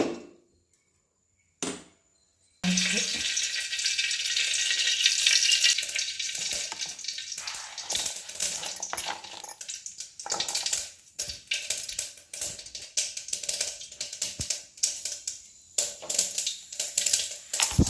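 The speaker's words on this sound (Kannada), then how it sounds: "ಸಾಸಿವೆ ಸಿಡಿತಿರೋ ಸೌಂಡ್ ಚೆನ್ನಾಗಿ ಬರ್ತಿದೆ" Mustard seeds pop and splutter in hot oil: a dense, continuous crackling sizzle with sharp individual pops, close and steady after a brief quiet start.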